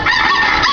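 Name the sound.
rooster crowing sound effect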